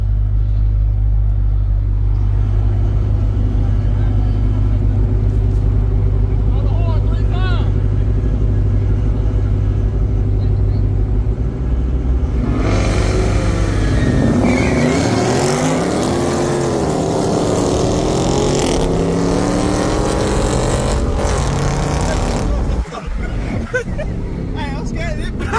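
Dodge Challenger Scat Pack V8 roaring at sustained high revs during a burnout, loud and continuous with a deep droning rumble, pitch rising and wavering midway as tires spin, with voices talking over it.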